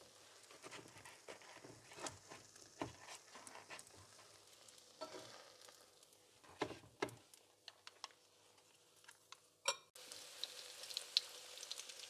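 Quiet, steady sizzling of kefir apple pancakes frying in a pan, with occasional clicks and scraping taps of a utensil; no voices.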